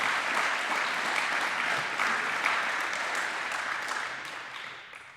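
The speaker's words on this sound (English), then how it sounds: "if we could get a round of applause for all candidates from District 3" A crowd applauds candidates from District 3 at a public gathering, a steady burst of clapping that fades out over about five seconds, with no talking.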